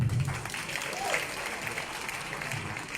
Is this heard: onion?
no